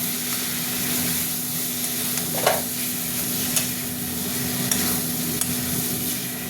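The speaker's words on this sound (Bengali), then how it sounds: "গরম মশলাটা দিয়ে আরেকবার একটুখানি নাড়বো" Garam masala is stirred in a hot frying pan with potatoes, a steady sizzle of frying running throughout, marked by occasional scraping taps of the spoon against the pan.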